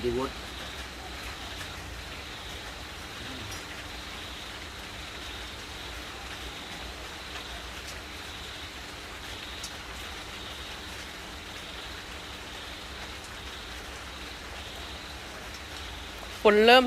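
Heavy rain pours down steadily in a continuous, even hiss that holds for the whole stretch, with a brief louder burst right at the end.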